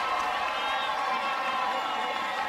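A softball crowd at an Oklahoma vs Kansas game cheers a base hit roped into right field, a steady, dense roar that holds at full strength for the whole moment.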